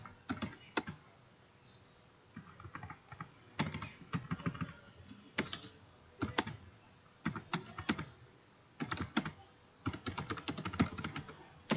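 Someone types a command on a computer keyboard in quick bursts of crisp key clicks separated by short pauses, close and fairly quiet.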